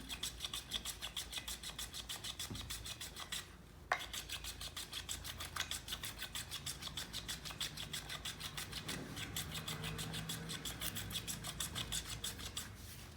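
A tapered wooden pole is carved by hand, the blade rasping along the wood in quick, regular strokes, faint and close with no speech.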